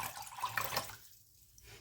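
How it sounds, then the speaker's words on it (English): Rainwater poured into a filter while making pickled beetroot, a soft steady splashing and trickling stream close by that fades out partway through, with no talking. "this is rainwater. So I'll just put it in there to filter it, but that's easier for me to pour out"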